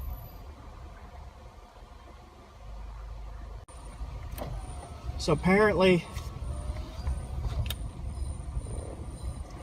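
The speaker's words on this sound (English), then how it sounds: "It's just screeching and" A car's brakes screech and grind while driving on a mountain road, a wavering squeal rising for about a second midway through, under road noise and someone speaking quietly.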